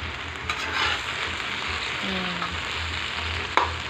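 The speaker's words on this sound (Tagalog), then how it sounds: "Dahil kumukulo-kulo na siya. Yan guys, lumabas na yung mantika niya." Chicken legs frying in a pan for adobo, oil bubbling and sizzling steadily with occasional pops and a faint clatter of stirring.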